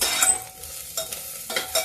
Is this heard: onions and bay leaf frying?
yes